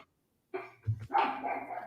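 Several dogs bark excitedly at close range, a burst of loud overlapping barks and yips following a short silence, filling the rest of the moment with agitated noise.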